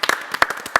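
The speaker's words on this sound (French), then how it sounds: "De retour sur le plateau de Sunset, on peut applaudir." A studio audience on a television set claps in a short, dense burst of overlapping hand claps, close and brief.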